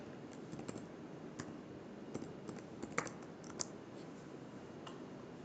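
A website name is typed on a computer keyboard in short, uneven runs of crisp clicks, with a few louder key strikes standing out against a quiet room.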